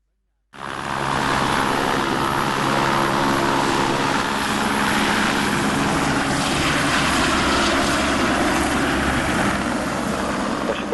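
Firefighting helicopters operate over a forest fire in the Veneto mountains, their engine and rotor drone loud and steady after a brief silent start, with a voice talking under it.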